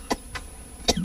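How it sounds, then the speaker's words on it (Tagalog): A few separate coughs from an adult indoors, two short bursts early and another near the end, moderately loud with no talk over them. "dugay naman ang imong ubo"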